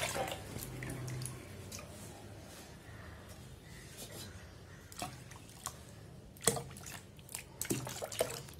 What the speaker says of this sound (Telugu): ఇంకొన్ని నీళ్లు పోసుకున్నాం